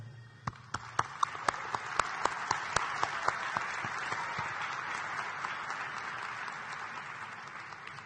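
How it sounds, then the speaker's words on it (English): Commencement audience applauding the honorees at a university ceremony. A few loud, distinct claps ring out first, then a broad wash of crowd applause swells and carries on steadily before slowly thinning. "Please join me in applauding them."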